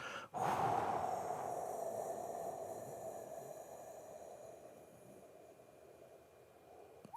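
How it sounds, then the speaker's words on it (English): A long, slow breath pushed out through the teeth during a meditation exercise, a soft hissing exhale that begins sharply after a short pause and gradually fades. "Breathe out slowly, not fast, not a gush, just like you're breathing through your teeth."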